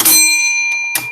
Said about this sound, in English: We got the bell.